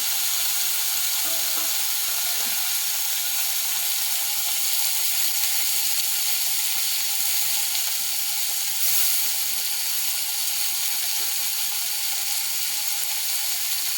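Bitter gourd fries in a pan for a mustard dish, a loud, steady sizzle that fills the whole stretch with faint stirring scrapes underneath and no voices.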